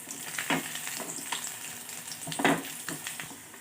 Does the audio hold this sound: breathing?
no